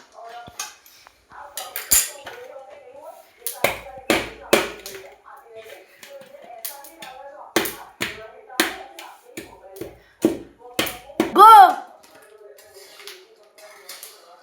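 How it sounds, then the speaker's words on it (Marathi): Peanuts are dry-roasted and stirred in a pan for jaggery laddoos, heard as repeated close scraping and rattling strokes with short pauses between them and a brief squeak near the end. "शेंगदाणे चांगले भाजायचे आपल्याला."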